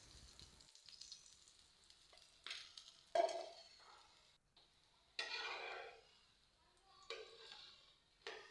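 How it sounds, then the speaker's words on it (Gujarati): A methi paratha roasts in oil on a tava griddle, giving a soft sizzle and frying crackle that swells in several bursts, likely as the flatbread is pressed or turned, with no talk. "આ પાર્ટ 2 અહીંયા આપણે પરોઠાને એક તવામાં આપણે તેલમાં શેકી લેવાનો છે"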